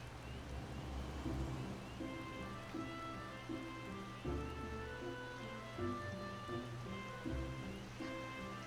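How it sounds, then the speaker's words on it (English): Steady rain patters down in Final Fantasy XIV, a soft, even hiss of drops with a faint tonal music line running beneath and nobody speaking. "Oh, it's raining."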